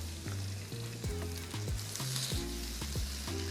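Stuffed French toast, granola side down, frying in butter and olive oil, giving a steady close sizzle with a few soft bumps and scrapes from the pan, no voices.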